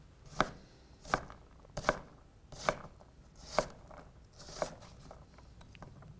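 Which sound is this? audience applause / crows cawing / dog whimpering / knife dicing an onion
knife dicing an onion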